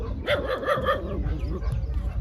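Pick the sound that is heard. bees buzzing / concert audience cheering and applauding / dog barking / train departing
dog barking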